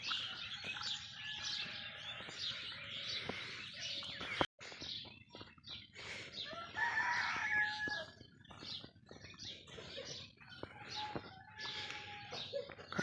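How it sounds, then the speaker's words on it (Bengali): Many birds chirp and tweet busily outdoors on a cold, calm morning, with a rooster crowing faintly among them; scattered calls overlap continuously at moderate distance. "সকাল সকাল ঘুম থেকে উঠে পাখিগুলোর কিচমিচানি শুনতে পারে"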